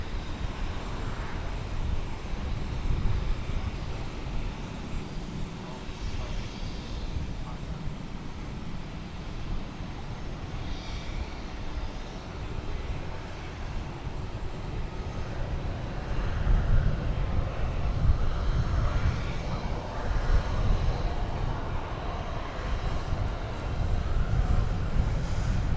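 An American airliner rolls for takeoff on runway 18 left at DFW Airport, a broad, steady roar of jet engines heard from a distance, with low rumble and wind noise throughout.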